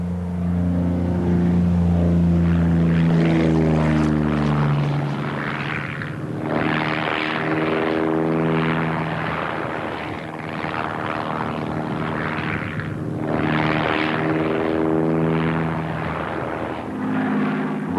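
De Havilland Chipmunk piston-engined aircraft climbing in flight, its propeller engine a loud continuous drone that dips and swells in pitch, heard close up and alone.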